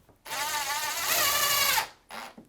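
A power drill with a screw bit drives screws while a sofa bed is assembled, giving a steady high whine for about a second and a half that rises slightly in pitch, then a shorter second burst, close and alone.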